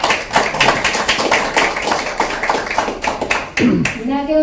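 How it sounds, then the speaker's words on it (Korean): Attendees at a party campaign committee meeting in Busan are welcomed with fairly close applause that rises and falls, with distinct individual claps. The clapping dips near the end as a speaking voice comes in. "큰 박수로 환영해 주시기 바랍니다."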